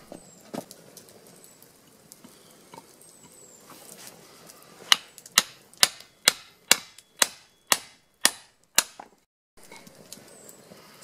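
A hammer strikes a freshly cast lead cannonball about nine times in a quick, even series of sharp, loud metallic knocks, blending in what is left of the casting funnel after some quieter handling noise.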